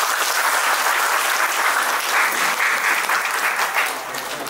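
A crowd of guests clapping together at a Christian wedding ceremony, dense sustained applause that holds steady for several seconds before easing slightly at the end.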